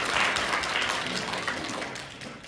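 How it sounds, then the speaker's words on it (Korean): An award ceremony audience applauds a Buddhist supreme patriarch, a dense, steady wash of many hands clapping together that slowly fades over a couple of seconds. "온명 종정 스님께 뜨거운 박수 부탁드리겠습니다"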